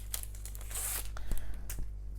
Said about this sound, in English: I will just take it out of the packet anyway.